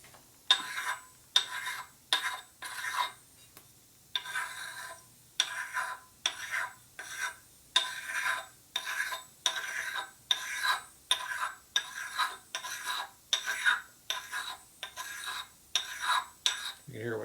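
A metal blade is drawn across a fine sharpening stone at about a 45-degree angle, making repeated scraping strokes. Each rasping pass is close and crisp, and the passes follow in a regular rhythm of roughly one per second with brief pauses between them.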